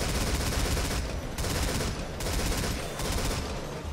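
Turret gunfire rattles without pause in the Metal Gear Survive beta, a loud, dense stream of shots with brief dips in intensity, and no voices over it.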